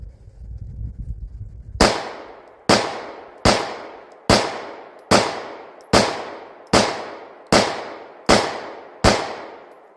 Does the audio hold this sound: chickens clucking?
no